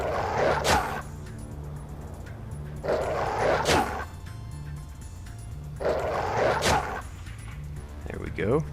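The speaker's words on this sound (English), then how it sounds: "Leave the dog alone." A dog in Shadowrun: Dragonfall lets out three separate bursts of barking, each a short cluster of yips and woofs spaced a few seconds apart, close and clear over quiet game ambience.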